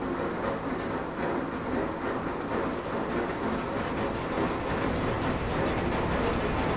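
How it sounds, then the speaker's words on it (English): Heavy rain drums on a tin roof in Costa Rica, recorded from inside the house right against the metal: a dense, steady, loud roar with a faint refrigerator hum beneath it. "the rain on the roof, I was inside the house recording it right up against the tin."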